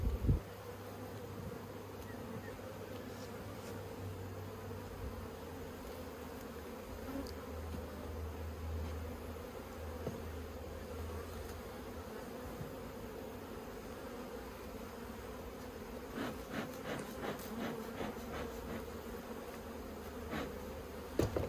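Honey bees hum steadily around an open top bar hive during an outdoor inspection in Australia, a dense, continuous drone with a few sharper clicks and knocks near the end.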